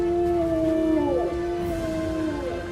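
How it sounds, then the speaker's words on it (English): A wavering, howl-like call of an ash strider creature in the video game Elder Scrolls Online, Vardenfell, with sliding tonal pitches, sustained and fairly loud, with no talking. "I love that noise right there. These are ash striders."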